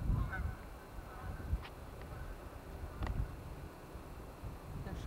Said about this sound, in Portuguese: gansos.